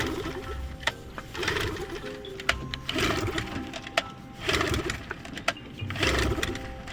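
A boat engine fitted with brand new spark plugs cranks repeatedly without catching, giving a series of short, rough mechanical bursts about a second apart, nearby and with no talking.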